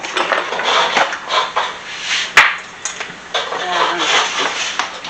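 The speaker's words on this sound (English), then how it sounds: "We'll get a spatula out." Kitchen clatter from a spatula and dishes being handled, with busy scraping and rattling close by and one sharp clink partway through, under some talk.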